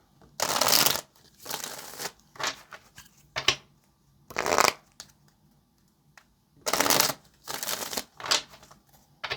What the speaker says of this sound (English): I'm going to go ahead and start pulling some tarot and see what else we can find out about our day today.